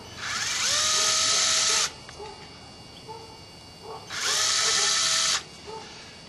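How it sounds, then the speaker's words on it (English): A power drill drives set screws into a free-standing skateboard rack, two loud, steady high whirring bursts of about two seconds each separated by a quieter pause with faint clicks. "screw the set screws"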